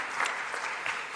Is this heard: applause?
yes